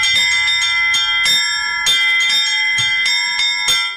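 Church bells ring from the restored bell tower of the Church of Job the Long-Suffering in Tikhvin during jubilee festivities. Loud, bright strikes follow in a quick, uneven peal of a dozen or more, with long ringing overtones and no voices.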